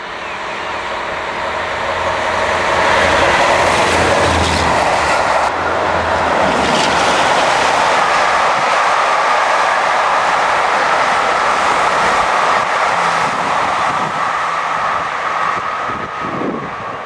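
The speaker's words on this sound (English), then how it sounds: "D1015 Western Champion headed the Western Rocks rail tour from Bristol to Buxton, here seen heading through Clay Cross Junction" Class 52 Western diesel D1015 Western Champion hauls a rail tour through Clay Cross Junction, a loud, sustained engine roar with rumbling wheels passing close by, swelling and fading over a continuous run.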